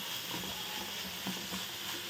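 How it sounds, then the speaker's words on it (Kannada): Tomato and onion frying with star anise in a pan, a steady close sizzle with a few soft stirring scrapes, no voices. "ಟೊಮ್ಯಾಟೊ ಈರುಳ್ಳಿ ಎಲ್ಲ ಮೆತ್ತಗಾಗಬೇಕು ಅಲ್ಲಿವರೆಗೂ ಹುರ್ಕೋಬೇಕು ನೋಡಿ"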